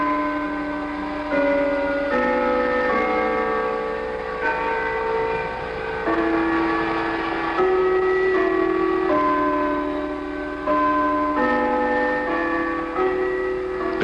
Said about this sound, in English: The chimes of the Customs House clock, made to sound like Big Ben, now play The East is Red